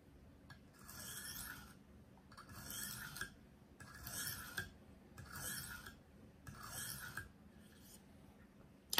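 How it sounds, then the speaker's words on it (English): A kitchen knife blade stroked across a KME sharpener stone in light alternating passes: six rhythmic, evenly spaced rasping scrapes, close and fairly quiet, with short pauses between strokes. "I do alternating strokes on each side, even lighter pressure to remove the burr before I progress to the 300 grit"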